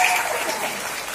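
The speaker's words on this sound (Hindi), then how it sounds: "एक बार तालियां बजाते हैं।" A brief burst of audience applause at a comic poetry recital, a dense wash of clapping that starts at full strength and tapers slightly over about a second.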